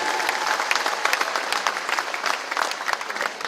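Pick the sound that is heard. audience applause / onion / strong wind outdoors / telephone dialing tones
audience applause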